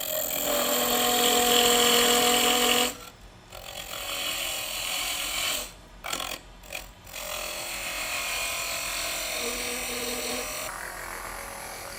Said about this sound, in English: we've got to make a little tenon that this lid will